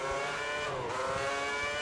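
A Formula One car on a qualifying lap around the Monaco street circuit in the F1 2010 video game, its engine holding a high whining note that dips and climbs again as it shifts, steady and continuous.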